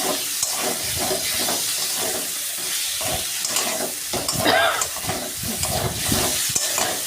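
Ginger, green chillies and cumin sizzle and fry steadily in a hot pan, with continuous loud hissing and occasional stirring scrapes throughout.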